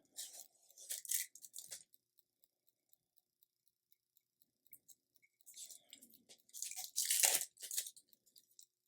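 Paper is peeled away from a sublimated coffee mug with quiet crinkles and soft tearing, in two short bursts separated by a few seconds of near silence.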